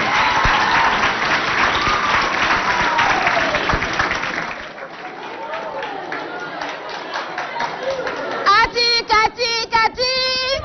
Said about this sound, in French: Merci beaucoup, on applaudit pour la compagnie.